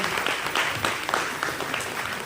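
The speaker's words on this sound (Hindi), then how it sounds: "ताली बजाएंगे आप लोग" An audience at a Hindi motivational business talk bursts into steady, dense applause, loud and close, with no voices rising above the clapping.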